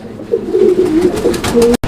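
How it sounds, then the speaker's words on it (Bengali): Pigeons coo close up in low, throaty, rolling calls, with a brief moment of silence near the end. "এখানে আরও এক জোড়া কবুতর আছে"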